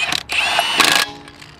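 Impact wrench used on a car front brake job, a loud close whirring mechanical burst with a brief pause, then a second burst that quickly fades.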